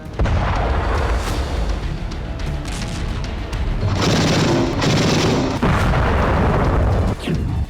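Multiple bomblet explosions in a war zone in Ukraine, heavy overlapping booms and rumbling blasts that run nearly continuously, loud and dense with bursts of rolling detonation.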